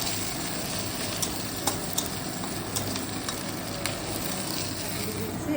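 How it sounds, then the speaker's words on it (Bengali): Fish frying in a pan with onion and green chilli gives a loud, continuous close sizzle and crackle, with occasional small pops and taps. "মাছটা মাছটা বসিয়ে দিই তারপরে পেঁয়াজ কাঁচা লঙ্কা দিয়ে দিলাম"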